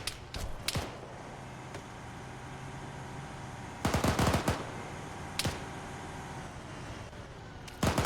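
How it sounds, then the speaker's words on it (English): Game gunfire from Arma 3 during a Zeus-run multiplayer session: sharp bursts of automatic fire and single loud reports, a dense cluster of shots near the middle, isolated cracks elsewhere over quiet ambient background, no talking. "Somebody's throwing nades at us."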